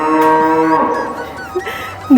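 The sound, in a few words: cow mooing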